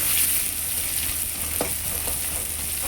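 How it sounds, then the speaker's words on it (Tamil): Tomatoes sauté in a pan with onions for a squid thokku, giving a continuous close sizzle with faint stirring scrapes throughout and no talking. "தக்காளியை போட்டு நல்லா வதக்கிக்கலாம்"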